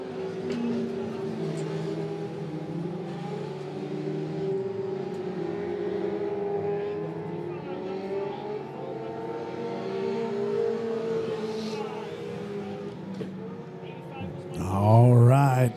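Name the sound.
race cars on Monett Motor Speedway dirt track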